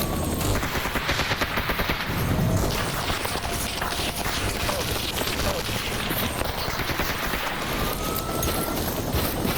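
Enemy gunfire crackles in the shooter Stalker Anomaly, rapid overlapping shots and bursts filling the whole stretch with dense, close, loud popping while other sounds blend in.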